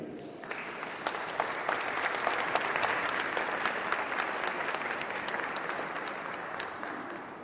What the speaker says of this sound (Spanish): Pido a ustedes que les demos con nuestro aplauso la más cordial bienvenida